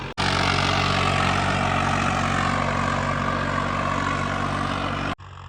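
A New Holland 3630 tractor's diesel engine runs in second high gear, a loud, steady, unbroken drone that holds the whole time before cutting off sharply at the end.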